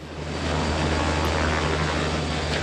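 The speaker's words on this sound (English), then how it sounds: "Got the old uh, helicopter out to find him." Helicopter in the 1982 film Piranha II: The Spawning, a loud, close, steady rotor and engine drone with a low humming throb throughout, no talk.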